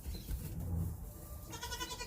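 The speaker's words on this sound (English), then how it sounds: "Coco, the boy goat." Coco, a male homestead goat, lets out a single close bleat that wavers and trails off into a higher, shaky tail.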